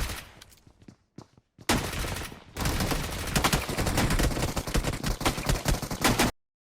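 Gunfire in the video game BGMI arrives as a few sharp isolated shots followed by dense sustained bursts of rapid fire that cut off abruptly, loud and close.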